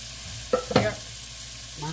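Food cooking in a pan with a steady background sizzle, broken by a few short stirring scrapes and clatters near the middle; no talking.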